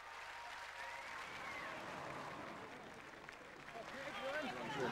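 Roadside spectators at the 2001 Buller Gorge Marathon clap for passing runners, a thin, continuous patter of applause beneath a voice talking over it, with crowd murmur in the background.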